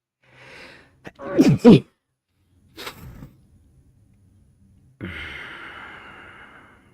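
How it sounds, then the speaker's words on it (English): A single forceful sneeze bursts out after a quick sharp intake of breath, followed by a softer breathy exhale and then a long airy sigh. "That was a good sneeze."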